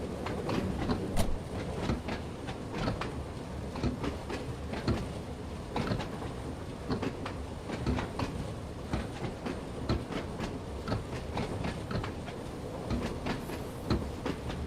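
Train Sim World 2 train on the Isle of Wight line, old-school rolling stock running with steady rumble and a dense, regular clickety-clack of wheels over rail joints, continuous and fairly close throughout.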